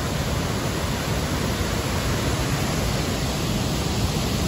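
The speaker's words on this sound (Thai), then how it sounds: "น้ำตกสวยมากเลยเพื่อน" An Australian waterfall, old and tinged red by soil, roars as a dense, constant rush of falling water, steady and close with no voices.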